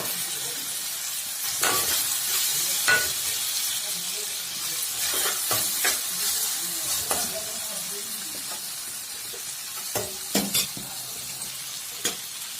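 Peas and button mushrooms fry in a pan with a constant sizzle, broken by repeated sharp scrapes and knocks of stirring, close and fairly loud, with no voices.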